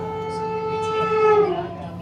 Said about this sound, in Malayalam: ഇതാണ് മൈസൂർ ചെന്നൈ വന്ദേ ഭാരത്